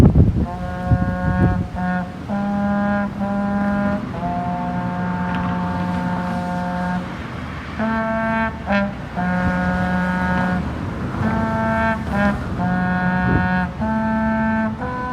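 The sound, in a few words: man playing trombone on street after hurricane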